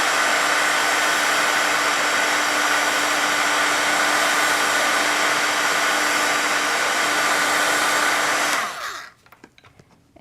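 A hair dryer blows steadily and loudly at close range over Copic ink on paper, a continuous broadband whoosh with a faint hum that cuts off near the end, leaving near silence.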